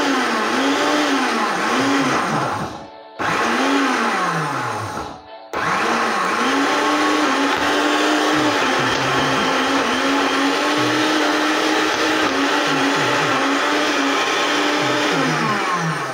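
A kitchen blender purées leftover fajitas with tomato and a splash of broth, its motor whining loud and steady and cutting out briefly twice before resuming.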